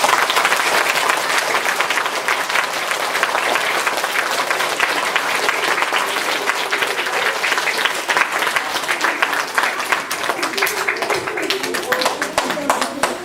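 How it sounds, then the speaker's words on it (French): An audience bursts into loud, sustained applause, dense clapping filling the hall from start to finish, with a few voices mixed in toward the end. "Et là, vous pouvez l'applaudir encore plus fort."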